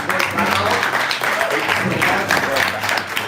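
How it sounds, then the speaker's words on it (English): Audience at a community town hall in Brooklyn applauding the panelists, a full burst of clapping with some voices mixed in throughout. "let's give them an applause"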